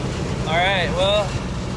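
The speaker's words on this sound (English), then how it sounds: "it's really loud because the Chinook is just really loud" A 1976 Toyota Chinook camper on the move gives off a loud, steady engine and road roar, with two brief rising-and-falling tonal whines riding over it partway through.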